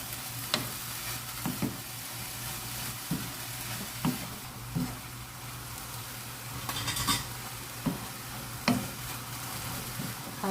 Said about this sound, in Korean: 그러면 불을 약간 센 불에서 고추가 너무 많이 팍 익지 않아도 좋습니다.